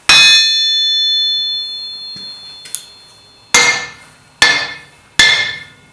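Hammer blows on a cast steel anvil: one strike with a long, bright sustained ring, a light tap, then three sharp hits roughly a second apart, each ringing clearly and decaying.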